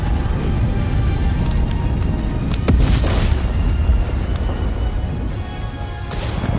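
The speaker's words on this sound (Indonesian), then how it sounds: "tiba-tiba sebuah ledakan yang sangat besar terjadi." A deep, continuous rumbling roar of an explosion, loud and sustained with a sharp crack partway through.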